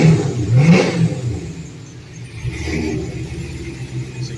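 A 1984 Corvette running its normal Flowmaster exhaust blips its engine in a burst of revving, then settles into a rough idle before a softer second rev, heard close.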